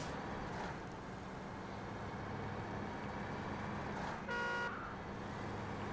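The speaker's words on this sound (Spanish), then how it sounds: "Lo único que no me gusta del Taiga es la bocina que tiene." A brief horn blast from the Taiga truck in SnowRunner sounds near the end, over a steady engine drone.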